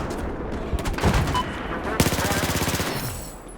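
Rapid automatic gunfire from a FAMAS rifle in the Battlefield 4 video game, delivered as dense bursts of sharp shots and close, loud fire with a few brief gaps in between.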